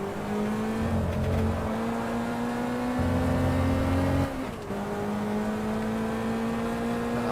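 A race car's engine in the sim racing game GT Legends at Donington Park holds a steady drone, then drops sharply in pitch on a downshift before settling into a lower, even tone, loud and close.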